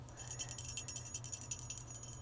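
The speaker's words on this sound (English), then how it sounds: "you have the blue bell" A blue bell is shaken in rapid, jingling bursts of high metallic tones for a couple of seconds, soft and close over a low steady hum.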